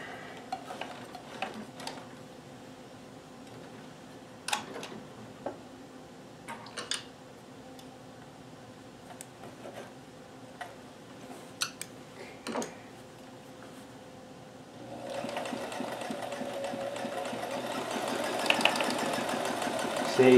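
A Kenmore super high shank sewing machine with a free motion hopping foot makes sparse, soft ticks and taps, then starts running steadily and louder near the end.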